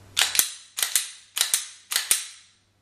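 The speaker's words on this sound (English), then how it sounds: "Now I will rack my slide back 3 times just to verify that there are no bullets in this gun." An empty handgun's slide is racked back three times, each a sharp metallic double clack with a short pause between, close and clear in a quiet room, followed by a fourth similar clack.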